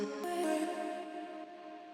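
A future bass vocal chop pitched an octave lower plays alone as a melodic synth-like line of shifting notes, steady and fairly loud throughout with no other instruments or voices.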